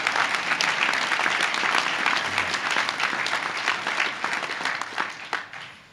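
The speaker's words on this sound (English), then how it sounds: "That's an applause line." A university audience applauds during a state of the university address, giving dense, steady clapping that holds for several seconds before starting to taper.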